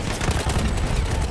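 Dense, continuous gunfire and explosions in a World War 1 video game, a loud unbroken roar of overlapping shots lasting just over a second.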